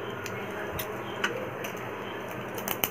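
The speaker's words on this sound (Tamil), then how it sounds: "கடுகு பொரியுது" Small mustard seeds crackle and pop in a hot pan while making carrot egg poriyal, scattered irregular ticks over a constant sizzling hiss.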